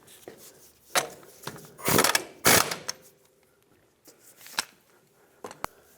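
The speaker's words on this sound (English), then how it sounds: "put your castle nut back on, let's bottom it out and torque it to 67 foot-pounds" Castle nut on a tie rod stud of a 1996-2002 Toyota 4Runner being run down and torqued: close, sharp clicks of a ratcheting wrench and metallic knocks in irregular bursts, separated by quieter pauses, with no talking.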